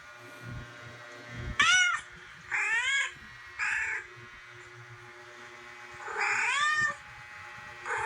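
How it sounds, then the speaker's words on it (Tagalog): Cat meows played back through a cellphone speaker, four or five drawn-out, wavering calls spaced over several seconds, fairly clear and close with no talk. "yung aking cellphone may sound 'yan ng pusa"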